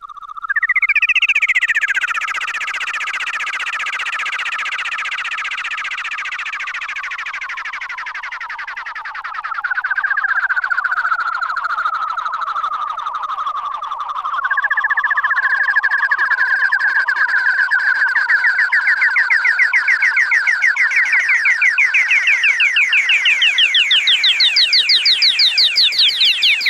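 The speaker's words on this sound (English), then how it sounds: "So this is what the self-oscillation sounds like without distortion." A pure, whistling tone from a Behringer TD-3 synthesizer's self-oscillating filter, without distortion, glides and sweeps up and down in pitch, with a warbling chirp-like motion and echoing delay repeats, clean and loud throughout.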